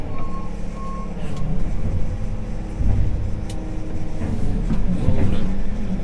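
Farm vehicle at a slurry site reversing, an engine rumbling nearby with a high reversing beep repeating at the start, then heavy low engine surges.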